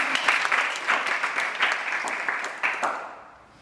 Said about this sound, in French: je pense qu'on peut l'applaudir à toi.